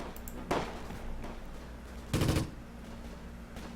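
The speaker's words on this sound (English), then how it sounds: "We've also got some enemies firing from over here." Enemy gunfire in the World War II strategy game Close Combat, Gateway to Caen, comes as two short bursts of distant-sounding shots over a steady game background.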